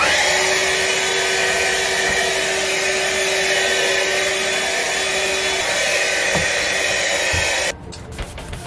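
Steady, loud vacuum cleaner motor whine with a broad airy roar, cleaning a sailboat's teak, running continuously before cutting down abruptly near the end.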